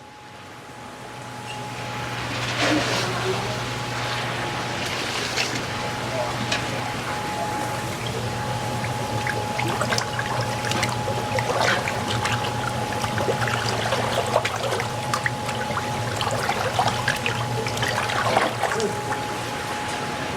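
Water pours steadily into a tub while changing the water for koi, a continuous trickling wash running throughout, with faint background talk and a steady low hum underneath.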